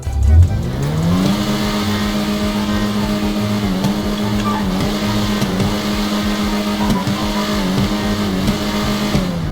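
A car engine in GTA 5 drones and revs loudly and steadily, its exhaust note holding a constant throaty hum with slight pitch shifts.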